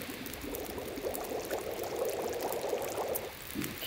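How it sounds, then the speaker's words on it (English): Water bubbling as it boils in the survival game The Long Dark, a continuous seething and gurgling that swells slightly then eases, heard alone and fairly close. "Boil all of our water so that we have fresh water."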